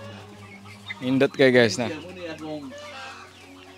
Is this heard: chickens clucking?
yes